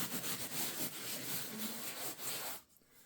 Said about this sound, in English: this is 80 grit sand, regular sandpaper here